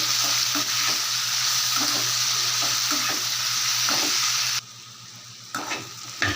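A Tamil home cook stirs mashed elephant foot yam into a spicy masala in a hot pan, with steady sizzling and repeated scraping stir strokes, then a brief quieter pause before the stirring resumes.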